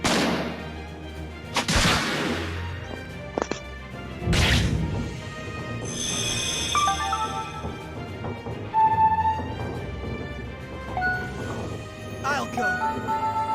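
Sharpshooter gunfire attack in the Stella Glow video game, with heavy booming shots and crashing impacts over game music and sound effects, loud and busy throughout.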